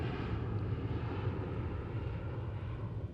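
An Embraer Legacy 500 business jet flies a display at the Farnborough Airshow, a steady, loud roar of jet engines heard alone throughout.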